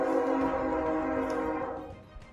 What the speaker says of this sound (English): Well, if it's not a phone call, it's a damn train.